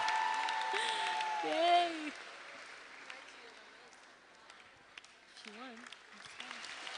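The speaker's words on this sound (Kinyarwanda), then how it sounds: "Clap for the Lord." A church congregation applauds in a steady, sustained wash of clapping that fades slightly in the middle and then swells again, with singing voices and a cheer over the start.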